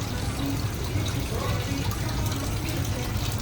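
Two kilograms of cold water pours steadily into a mixing container for pizza dough, a continuous close gushing and filling rush lasting throughout.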